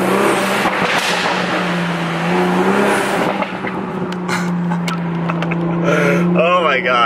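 A 2020 Toyota Supra in sport mode with manual shifting revs its engine inside a tunnel, a loud sustained drone that rises in pitch, then crackles and pops from the exhaust near the end of the rev.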